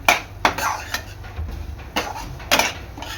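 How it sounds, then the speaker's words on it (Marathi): Semolina roasting in ghee in a pan for pineapple shira, stirred with a metal spoon that clinks and scrapes against the pan in a few distinct strikes over a soft sizzle, close and clear, with no talking. "आणि 1-5 मिनिटं आपला रवा चांगला परतून घेणार आहे।"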